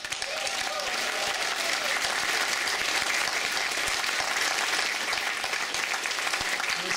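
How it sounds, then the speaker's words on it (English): Sustained applause from a crowd at a gaming player summit honoring contestants, steady and full throughout with no voices standing out. "A huge round of applause for all the contestants."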